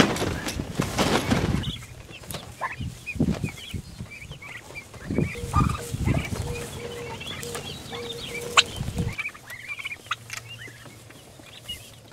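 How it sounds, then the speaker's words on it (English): Turkeys and guinea fowl crowd a pastured poultry tractor, gobbling and clucking in overlapping bursts with sharp calls and scattered squawks, fairly close, with a low background hum and no talking. "here in our turkey tractor, you notice we got turkeys and guineas in there right now"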